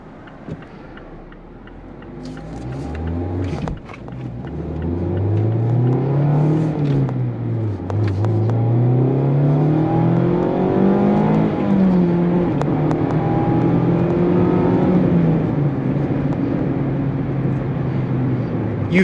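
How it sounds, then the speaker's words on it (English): A 2023 Mazda Miata engine revs while driving in traffic, its pitch climbing and dipping through gear changes, loud and close from inside the car. "listen to that engine rev out"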